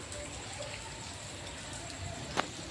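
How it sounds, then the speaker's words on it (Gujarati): Heavy rain falls steadily outdoors, a soft, even hiss of drops at a moderate distance with one brief sharper splash near the end. "તો મિત્રો ખતરનાક વરસાદ પડી ગયો છે"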